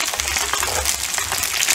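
Dumplings fry in oil in a pan with close, dense crackling and spattering sizzle, steady throughout, with no talking.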